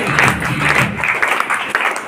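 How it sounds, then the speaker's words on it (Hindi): Audience applause at a business motivational event, dense clapping from a crowd sustained throughout and fairly loud. "तो एक बार सारे लीडर्स के लिए जोरदार ताली होना"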